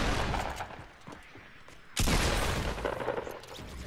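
Rapid volleys of shotgun fire in a PvP video game match, loud dense bursts that ease off mid-way, then a sharp blast kicks in again with repeated shots, no talking.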